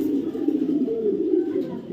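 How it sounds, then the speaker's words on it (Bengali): A large blue bar Schadel female pigeon coos close up in a continuous low, throaty purr, moderately loud and steady, with no talking. "অসাধারণ একটা ফিমেল কবুতর"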